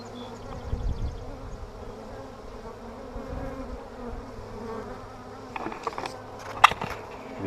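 Honeybees flying at a hive entrance with pollen on their legs, a steady soft buzzing swarm close by, with a few louder individual bees zipping past near the mic toward the end.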